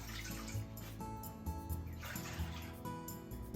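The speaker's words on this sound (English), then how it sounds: "Put 4 cups of water in the pot." Water poured into a large wok on a stovetop, a steady splashing, gurgling stream heard close and fairly quiet, running unbroken for a few seconds with no talking.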